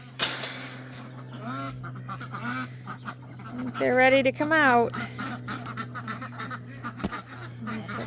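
Pen of ducks quacking and honking loudly in a burst near the middle, with scattered calls throughout under a steady low hum, close by, while a person talks over them.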